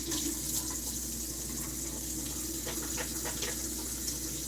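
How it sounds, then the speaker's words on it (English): Tap water runs steadily into a sink as hands are washed, a continuous close hiss with faint splashes and clinks, no talking, while garlic is being prepared for a tincture in a home kitchen. "Let me wash my hands again, because I have been touching."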